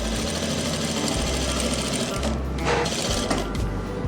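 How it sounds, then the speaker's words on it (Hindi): A sewing machine runs a half-inch seam joining the panels of a frock, whirring steadily in loud bursts with brief pauses, while a voice talks faintly underneath. "तो ऐसे ही आपने सिलाई लगाते जाना है आधा इंच की"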